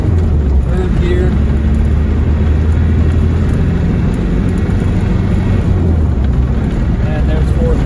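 A 1990s Land Rover Defender 110 Tdi diesel climbs a hill in third gear, its engine droning loud and steady with road rumble from inside the cab.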